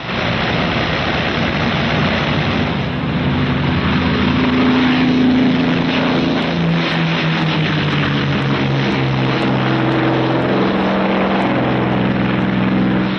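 A 1945 B-29 bomber's propeller engines drone in flight, a loud, continuous, even roar with a deep throbbing hum that holds steady throughout, with no talking.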